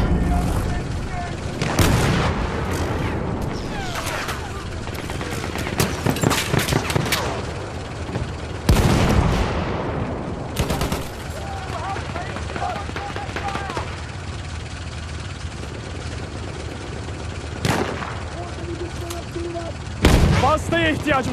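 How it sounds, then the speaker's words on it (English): Battlefield 1 artillery barrage in game: repeated heavy booms and cracks of shell impacts and gunfire, loud and irregular over about twenty seconds, with rumbling between blasts and occasional voices in the mix. "Coordinates have been sent to our artillery."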